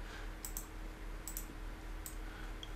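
Computer mouse clicks while selecting teeth in dental design software, a few quiet, sharp clicks in pairs spaced about a second apart over a faint background hum.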